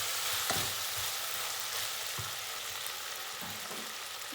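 Vegetables with tomato for a Turkish-style soup are stirred in a hot pot, with a steady sizzle and a few scraping strokes of a spoon at irregular intervals. No one speaks.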